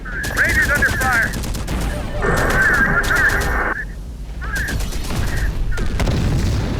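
Rapid bursts of video game gunfire crackle in clusters, machine-gun style rattles alternating with short pauses, loud and close, while radio-style voices and a tonal chatter sit in the mix.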